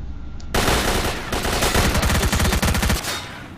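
Automatic gunfire in Stalker Shadow of Chernobyl, a loud sustained burst of rapid shots with a steady rhythm, close and unaccompanied by talk.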